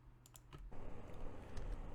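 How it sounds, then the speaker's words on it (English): Quick keystrokes on a computer keyboard while entering a hash into a hashcat command, a short run of faint, close clicks over a low background hum. "And then we type in the hash itself"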